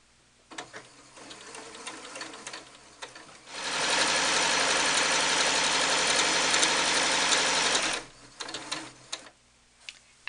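A sewing machine stitches a long seam through two layers of tulle, a loud, steady rapid whirring run of about four seconds, framed by quieter handling clicks and fabric shuffling before and after.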